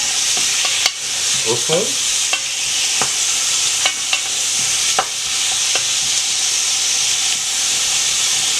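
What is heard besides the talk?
sausages frying in a pan for babafigue curry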